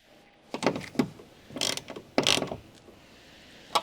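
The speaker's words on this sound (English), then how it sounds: "Using a 10mm deep socket with a large ratchet wrench, tighten the wiper motor mounting bolts." A large ratchet wrench with a 10mm deep socket tightens the wiper motor mounting bolts on a 2007-2017 Jeep Wrangler, giving several short close bursts of clicking separated by pauses.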